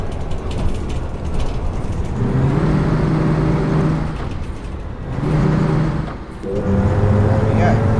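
An Ikarus 256.50 bus in the OMSI 2 simulator revs its engine, rising and falling in tone over a mechanical rattle, while someone talks over it.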